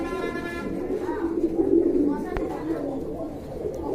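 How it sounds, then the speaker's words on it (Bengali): Aseel grizzle pigeons give soft, low cooing in a steady murmur at close range, with a brief sharp knock partway through and faint background noise. "এক জোড়া আফসান গ্রিজেল কবুতর দেখতে পাচ্ছেন"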